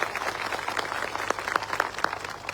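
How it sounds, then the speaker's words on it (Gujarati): A crowd at an Adivasi community public rally claps for police officers. The applause is moderate and scattered, with distinct individual claps standing out over a low background. "એવા તમામ પોલીસ અધિકારીઓ માટે એકવાર જોરદાર આપણે તાળીઓ પાડી લઈએ"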